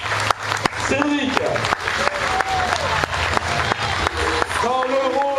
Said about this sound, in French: Mesdames et messieurs, je vous demande de les applaudir très fort.